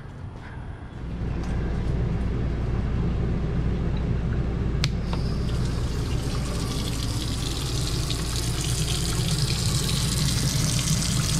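An RV water pump runs steadily as water flows out from the fresh water tank, a continuous rushing, tap-like stream that starts after a brief quiet moment and holds steady up close.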